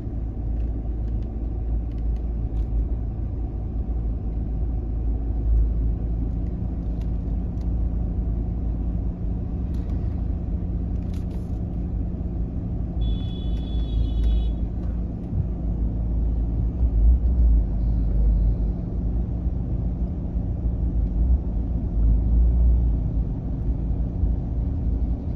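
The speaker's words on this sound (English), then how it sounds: "we will start driving the car in reverse" A car driving slowly in reverse gives a steady low engine rumble and road noise, heard from inside the cabin at constant level throughout, with a brief faint beep partway.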